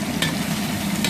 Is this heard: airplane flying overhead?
no